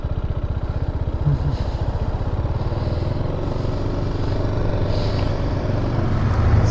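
A BMW G310R single-cylinder motorcycle engine drones steadily and loudly while riding, with a continuous pulsing thrum and a slight swell near the start.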